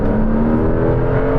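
A Porsche 911 Turbo S or Ferrari 296 accelerates hard in manual third gear, a loud, sustained engine drone with a steady rising tone heard from inside the car.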